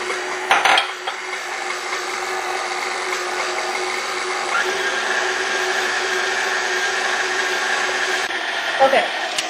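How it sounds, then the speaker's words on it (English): Stand mixer with a paddle beating cheesecake batter, a steady close motor whir running throughout with a few brief knocks and clatters at the start and near the end. "you're going to want to continue mixing and add half of your liquid very slowly"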